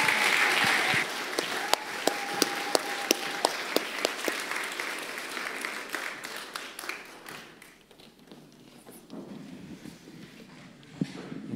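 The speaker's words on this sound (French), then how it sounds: "Je pense qu'on peut encore les applaudir." A church congregation applauds during a baptism service, a dense round of clapping with a few sharp louder claps that gradually fades, with murmuring voices and shuffling toward the end.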